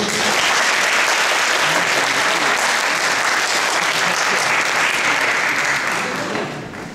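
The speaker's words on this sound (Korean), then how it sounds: "박수!" Loud, full applause fills an Air Force Academy information session, a dense wash of clapping from a large audience that holds steady and then begins to fade at the very end.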